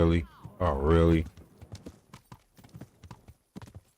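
A drawn-out whinny-like cry at the start, then quick, steady clip-clopping of hooves on pavement, fairly close.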